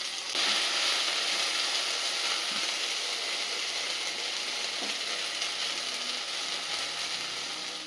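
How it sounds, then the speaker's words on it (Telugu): Coriander leaves frying in hot oil for a lady's finger fry, giving a constant, dense crackling sizzle throughout with only faint changes in level and no talking. "ఆయిల్లో కొత్తిమీర కూడా ఫ్రై చేసుకుంటాను"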